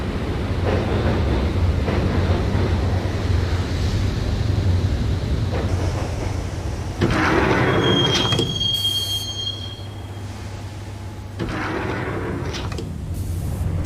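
A subway train in Max Payne rolls along after its doors have shut, a steady low rumble of wheels on rails with a bright metallic squeal partway through and a shift in the din near the end.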